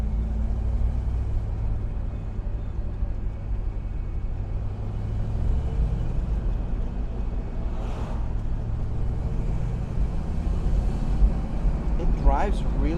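A 1966 Ford Mustang GT Fastback being driven, its engine giving a steady low rumble heard from inside the car, with someone talking over it.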